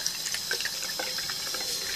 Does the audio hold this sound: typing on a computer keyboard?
no